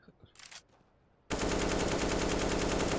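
Loud sustained AK rifle spray in Counter-Strike: Global Offensive kicks in abruptly after a quiet stretch of faint clicks and rustles, then continues as one unbroken, dense stream of rapid automatic fire.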